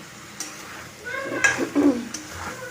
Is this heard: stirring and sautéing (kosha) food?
yes